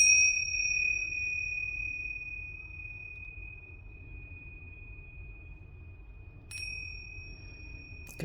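Tingsha bells struck together to clear tarot cards, a bright sustained ding ringing out and slowly fading, then a second strike near the end, with a low hum underneath.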